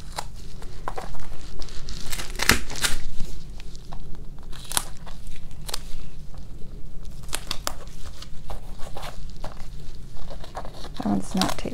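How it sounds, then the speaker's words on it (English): Tape handled and torn to fix a stencil at its corners for an acrylic pour painting: close crinkling and sharp tearing bursts come and go at irregular intervals, with faint background noise between them. "Then I'm just going to take some tape, keep it in place on the corners."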